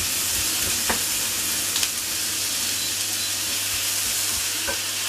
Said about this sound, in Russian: Жарим лучок.